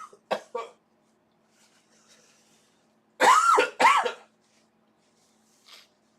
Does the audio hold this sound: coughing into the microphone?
yes